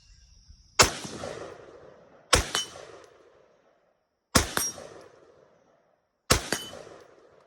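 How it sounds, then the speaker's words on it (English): An AR rifle fires four evenly spaced shots at a steel target about 100 yards away, each a sharp loud crack followed by a faint metallic ring and a decaying echo, with no voices. "We'll take a few rounds back at the 100-yard-ish target."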